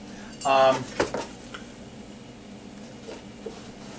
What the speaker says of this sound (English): I'm going to put this in the stainless steel slicer